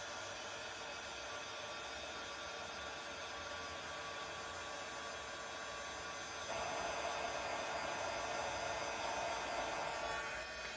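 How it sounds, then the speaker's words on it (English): Heat gun blowing over embossing powder to melt it, a steady whooshing fan hiss with a faint whine that grows a bit louder partway through, close up with no talking. "I run my heat tool over it, then it melts all of that embossing powder"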